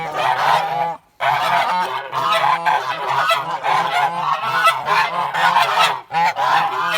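A flock of geese honks loudly and continuously, overlapping calls with a brief pause near the start.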